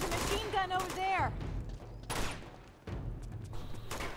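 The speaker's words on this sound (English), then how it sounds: "There's a machine gun over there." Bursts of machine-gun and rifle fire in the video game Uncharted 2, with someone talking over the repeated volleys.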